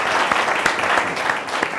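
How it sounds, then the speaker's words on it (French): Audience applause at an end-of-mission event in Côte d'Ivoire, a dense, continuous patter of clapping that holds fairly loud and even throughout, with no speech over it. "Je vous demande de vous applaudir très très fort."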